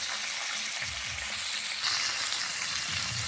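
Fresh fish pieces frying in hot oil give a steady, loud sizzle that runs continuously and close up, with faint stirring underneath.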